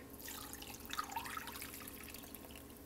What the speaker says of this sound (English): Then we're going to add all of our vegetable stock.